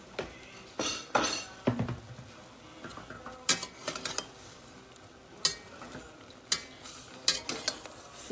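Sweet pork is stirred in a pot, with intermittent scrapes and metallic clinks of a utensil against the pot over a faint low sizzle, fairly quiet and with no talking.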